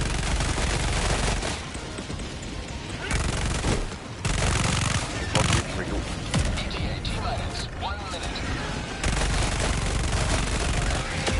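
Rapid gunfire in a late-night online shooter, dense and loud bursts of automatic shots rolling on through most of the stretch, broken by short gaps and mechanical clatter.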